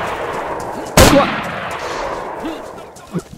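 Shotgun fire in the video game DayZ: one loud, sharp blast rings out briefly over a steady background hiss, and a faint voice murmurs afterward.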